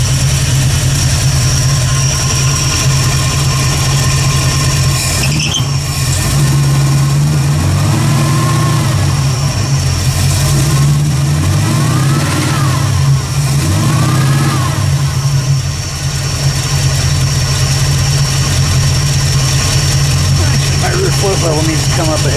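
An AMC AMX with a carbureted 304 V8 runs on a DynoJet dyno as it warms up: a loud, steady engine drone with several rising and falling revs, close and continuous throughout.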